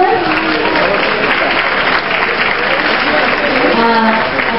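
An audience at a book fair in Lima applauds a prize winner, a loud, dense and continuous burst of many hands clapping with crowd murmur beneath it, sustained without a break.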